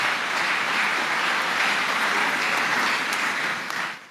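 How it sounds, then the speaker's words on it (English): Steady, dense clapping from a church congregation fills the space for about four seconds as worshippers applaud for Jesus, fairly loud and close, with no talk on top before it tapers off at the end. "Clap for Jesus"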